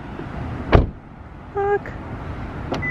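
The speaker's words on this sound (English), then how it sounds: "Close the old door." A house door swings shut with a single sharp thud, followed by a brief electronic beep and a quieter click near the end, all close against faint room noise.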